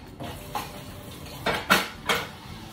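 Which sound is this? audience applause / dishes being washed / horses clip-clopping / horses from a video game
dishes being washed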